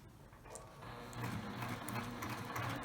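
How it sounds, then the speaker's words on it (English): A sewing machine runs a line of top stitching to fix webbing onto the outer fabric of a lined tote bag, a rapid, even mechanical chatter that builds and continues close up. "I'm going to take it to the sewing machine and I'm going to top stitch to secure the webbing fabric to the outer fabric"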